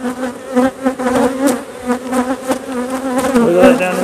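Bees buzz loudly and continuously in an open beehive during varroa mite treatment, a steady close-up drone with shifting pitch and no speech.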